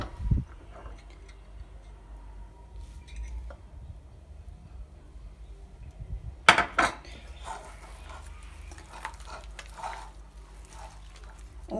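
Eclair choux dough being mixed with egg in a bowl, heard as a spoon or spatula knocking and scraping against the bowl, with sticky wet squelches and a sharp clank partway through.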